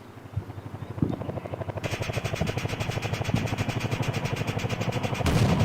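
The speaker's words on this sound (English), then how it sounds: "That's a helicopter. You don't actually see the aircraft." A helicopter in the war video game CM Shock Force, its rapid rotor chop pulsing steadily and loud for several seconds, with the whine swelling partway through, mixed with bursts of gunfire and distant booms.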